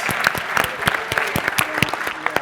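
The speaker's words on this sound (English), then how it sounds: "I know you just finished clapping for them" Audience applause for a panel at a political leadership summit, dense steady clapping from many hands with a few sharper claps standing out, loud and close throughout.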